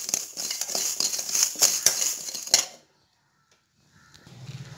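Cumin seeds dry roasting in a hot pan, stirred with a utensil against the metal, giving a busy run of scraping clinks and rattles that stops abruptly, then near silence and a faint low rumble.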